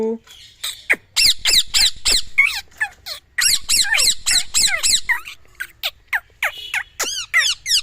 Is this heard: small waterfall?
no